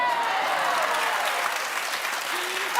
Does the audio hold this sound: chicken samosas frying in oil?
no